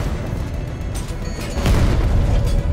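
A missile barrage strikes a tank in Batman: Arkham Knight, a dense rumbling boom swelling louder midway and holding as a heavy, sustained blast over steady low-end noise.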